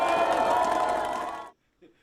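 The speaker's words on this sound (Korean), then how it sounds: "장관님께 다시는 이런 일이 일어나지 않도록 크게 박수 한번 보냅시다 우리" A crowd at a public event in Suncheon applauds and cheers for a visiting minister, a dense, loud wash of clapping and voices that cuts off sharply after about a second and a half, leaving near silence.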